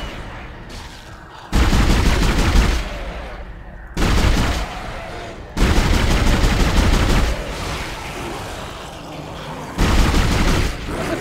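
Gunfire in the horror game Dead Space, loud bursts of shots in separate clusters with quieter gaps between them, booming and close, over game ambience.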